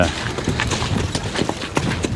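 Hooves of two-year-old Suffolk Punch colts, driven together as a pair, clip-clop in an uneven, quick rhythm of close, distinct strikes over a low background rumble.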